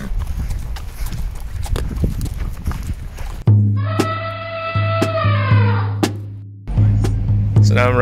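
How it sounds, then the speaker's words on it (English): Hooves of a ridden horse clip-clop on a trail in Zimbabwe, a steady walking rhythm beneath background noise, joined midway by a sustained tonal passage and occasional sharp knocks. "So now I'm riding with my horse"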